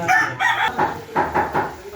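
A rooster crows at a fiesta, its calls loud and close, repeating in several quick bursts over a short stretch with no talk.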